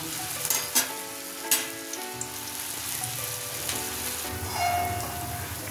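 Kofta for a raw jackfruit shahi malai kofta curry sizzling in oil over a low flame, a steady close crackle and hiss with a few louder pops and stirring clinks, no voices.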